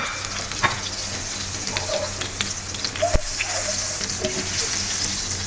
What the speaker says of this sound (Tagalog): Nilulusaw natin tong butter natin guys.